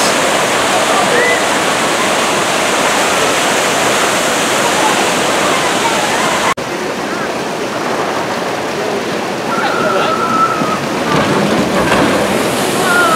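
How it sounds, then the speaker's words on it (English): Rushing water on a traditional log flume ride at Six Flags Great Adventure in Jackson, New Jersey roars loudly and continuously, with a brief dip midway and faint voices in the background. "Good old traditional log flume."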